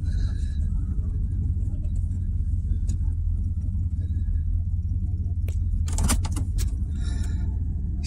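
A mouse-infested old car, bought for $2200, runs and drives with a steady low engine rumble throughout, plus brief rattles, jangles and a door-like clunk near the end, with no talk.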